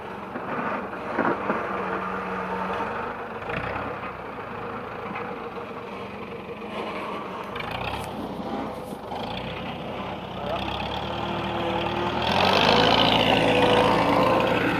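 A small farm machine's engine runs steadily inside a livestock barn while bales are moved, a continuous mid-pitched drone that swells louder near the end, with a voice talking over it.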